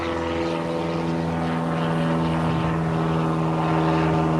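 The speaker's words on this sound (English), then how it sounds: "Plane flying overhead." Propeller airplane flying overhead at a circus museum in Sarasota, Florida, a steady droning hum of engine and prop that swells slightly louder over a few seconds, with no voices.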